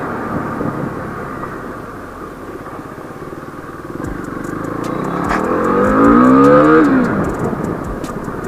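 A motorcycle on the road just after servicing, its engine droning steadily under wind rush, the pitch swelling and then sliding down as it slows, with light ticking clicks near the end and no voices.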